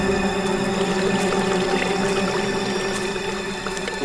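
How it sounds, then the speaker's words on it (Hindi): Steady rushing of flowing water, continuous and fairly close, filling the whole clip with no voices. "तो पानी की आवाज आ रही है, लगता है तालाब कहीं आसपास में ही है।"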